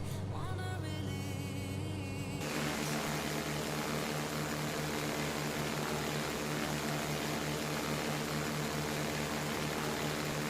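A sports aircraft engine hums steadily in Microsoft Flight Simulator during a Croatia bush trip, a constant even drone with no speech.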